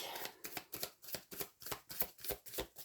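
Tarot cards being shuffled for a reading: close, soft, rhythmic riffling strokes, roughly ten swishes in quick succession at an even pace.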